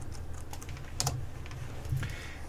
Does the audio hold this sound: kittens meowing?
no